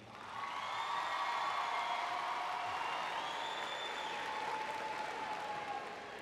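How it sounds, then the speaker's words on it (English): Sustained applause from a large graduation audience at a Dallas high school ceremony for the class of 2018, steady and broad with scattered cheers and whoops, swelling in and fading near the end. "let's give a round of applause to the class of 2018"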